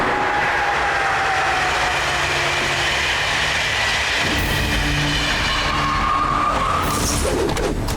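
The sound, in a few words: cartoon train moving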